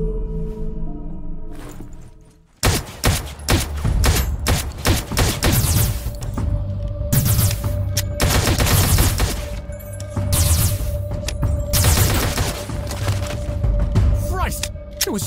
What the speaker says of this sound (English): Just shoot it dead.